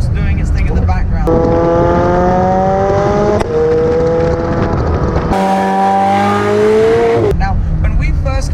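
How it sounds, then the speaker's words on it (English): A McLaren 720S with sports exhaust is driven hard, its engine rising loud and close through rising revs, with one break as it shifts and another sharp shift before a fresh climb, then the sound drops back. "you can hear maybe the sports exhaust doing its thing in the background"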